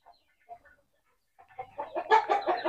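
A chicken with a swollen face clucks softly at first, then breaks into a rapid run of louder, close clucks.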